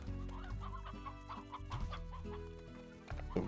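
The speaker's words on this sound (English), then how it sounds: "we're gonna put the rooster in with the rest of these" A rooster clucks repeatedly in the video game Slime Rancher, a steady run of short clucks and chatter over a constant tonal game soundtrack, with no talking.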